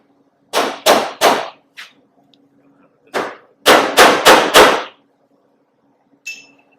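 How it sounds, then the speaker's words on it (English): Loud, sharp metal clangs from a hammer on a COE truck's headlight area ring out in two bursts: three quick strikes, then a pause, then a rapid run of four more, with a lone lighter tap at the end. "Now I'm going to try to hammer this down a bit."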